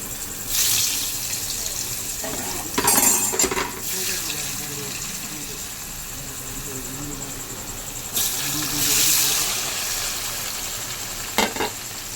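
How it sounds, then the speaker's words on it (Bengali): Paneer pieces fry in hot oil with turmeric and salt while cooking khichuri, a continuous sizzle swelling in louder bursts as pieces are turned, with some watery hiss and a sharp clink near the end. "তো পনিরগুলো ভাজছি।"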